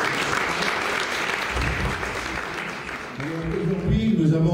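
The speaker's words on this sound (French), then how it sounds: "vous pouvez applaudir" Indoor audience applause at a cheese brotherhood ceremony for Saint-Nectaire, a steady wash of clapping that thins toward the end as other voices and noise rise beneath it.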